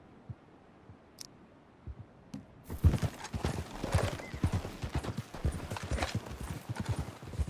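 Horses plod along at a walk in Red Dead Redemption 2, with a steady run of hoof clip-clops beginning after a quiet opening and a whinny partway through.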